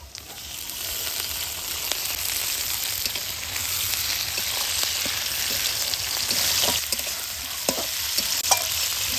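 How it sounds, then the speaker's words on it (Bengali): Mutton skin and chopped onions fry in oil with a dense, continuous sizzle and occasional scraping stir clicks, loud and close with no voices. "পেঁয়াজগুলা কিন্তু বেশ ভাজা ভাজা হয়ে গেলে এই সময় দিয়ে দিব হচ্ছে খাসির চামড়া।"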